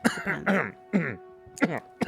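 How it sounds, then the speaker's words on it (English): A man in a Rec Room paintball league coach interview clears his throat in a few short, rough bursts separated by brief pauses, close to the microphone. "Had to clear my throat there for a second."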